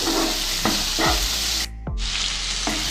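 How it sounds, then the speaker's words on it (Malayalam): Carrot, beans, onion and green chilli sautéing in oil, a steady loud sizzle with a few scraping stirs of the pan, no talking. "ഇതെല്ലാം കൂടി നന്നായിട്ട് ആ എണ്ണയിൽ നിന്ന് വഴറ്റിയെടുക്കണം"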